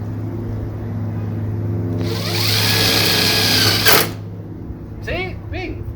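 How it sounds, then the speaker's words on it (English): A power drill whines as it drives a self-drilling screw into a Jeep Wrangler JK hood, a loud steady burst that ends abruptly, followed by brief voice sounds. "It drills its own hole."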